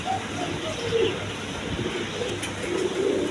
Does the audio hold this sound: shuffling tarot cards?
no